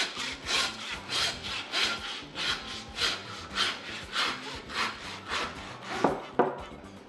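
A hand saw cuts through pig shoulder bone during butchering, with steady rhythmic back-and-forth rasping strokes, close and fairly loud, about a dozen strokes in a row.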